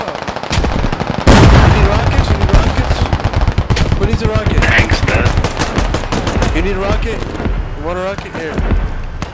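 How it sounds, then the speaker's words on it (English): Rapid bursts of automatic gunfire and sharp single shots crackle loudly in the video game Squad, packed densely throughout, with voices speaking over the shooting. "We're getting shot at."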